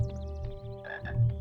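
A chocolate frog croaking in the Harry Potter Chamber of Secrets video game, a short run of rapid croaks over a steady game music drone, close and clear.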